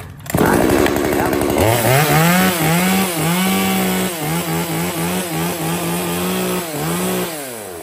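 A small battery-powered mini chainsaw whirs up to speed and then bites repeatedly into a branch, its whine dipping and recovering with each cut over several seconds, loud and close.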